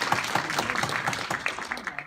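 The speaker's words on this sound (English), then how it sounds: "Let's give ourselves a round of applause" A banquet audience at an awards dinner applauds the volunteers, a dense, steady patter of many hands clapping nearby, with faint voices mixed in.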